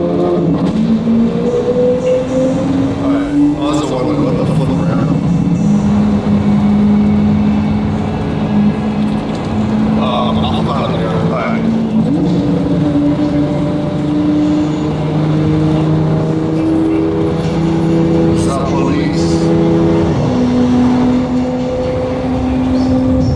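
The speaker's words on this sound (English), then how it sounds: "his car being too loud" Loud Lamborghini sports car driving, engine droning and revving steadily with shifting pitch throughout, close and continuous with no talk.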